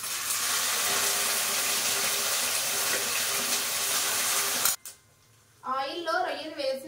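Raw prawns hit well-heated cooking oil in a pan, giving a loud, steady frying hiss for about five seconds that suddenly cuts off, followed by a brief pause and then a person talking.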